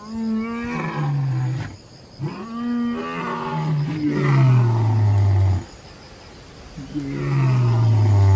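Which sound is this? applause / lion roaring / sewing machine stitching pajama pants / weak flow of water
lion roaring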